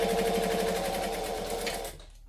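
A sewing machine runs in a fast, steady stitching burst while piecing quilt blocks for a Vixen pattern by Seams Legit, then stops abruptly near the end, leaving quiet.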